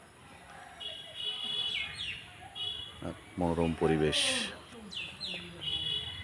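Birds chirp in short, bright tweets scattered across the scene, fairly close, while someone speaks briefly over them.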